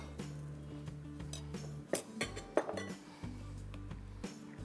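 Millet porridge (kambu koozh) is ladled into a bowl with soft clinks of a utensil against the dish and a few sharper knocks, over a low steady kitchen hum and no speech.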